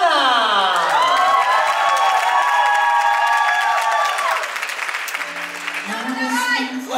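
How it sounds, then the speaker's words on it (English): Loud, sustained applause and cheering from a crowd for dancers at the Swing and Snow 2020 Strictly Open Final, a swing dance competition. Whoops ring through the clapping, which eases slightly toward the end as music comes in. "make a lot of noise to our gentlemen, Anna!"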